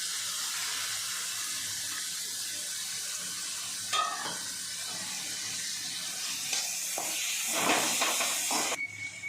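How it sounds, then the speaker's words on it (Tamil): Capsicum and onions sauté in a pan for chicken spaghetti, a soft steady hiss with scattered scrapes and stirring clatter that builds toward the end, with no voices. "இப்போ நம்ம கேப்சிகம் போட்டுடலாம். இது கொஞ்சம் வதங்கட்டும்."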